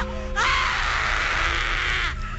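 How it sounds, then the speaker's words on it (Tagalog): A woman named Linda lets out a loud, sustained, harsh scream for nearly two seconds in a Halloween radio drama, filling the air over a steady background hum. "Maririnig natin ang isang malakas na tili ni Linda."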